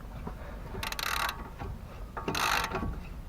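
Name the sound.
unscrewing BMW E46 stabilizer link nut with 17 mm wrench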